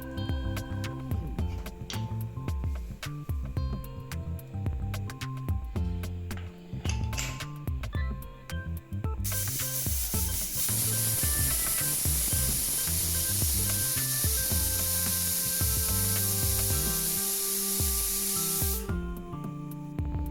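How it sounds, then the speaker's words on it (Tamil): A pressure cooker cooking sambar lets out a loud, steady hissing whistle that runs for about ten seconds over background music, then cuts off abruptly. "3 விசில் வர வரைக்கும் வேகணும்."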